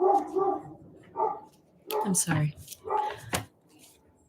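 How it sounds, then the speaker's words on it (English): A neighbour's dog barks from next door in a few short bursts, with a person talking close by over and between the barks. "Oh, dog's barking next door."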